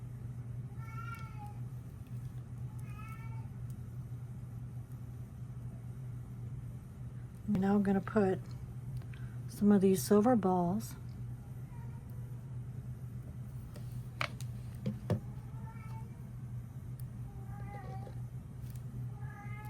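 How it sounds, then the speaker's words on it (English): A cat meows a few times, clear and fairly near, over a low steady hum while a person talks softly. "that's my cat making noise"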